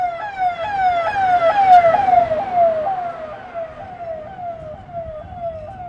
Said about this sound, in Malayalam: പോലീസ് വണ്ടികൾ മാത്രമേ ഉള്ളല്ലോ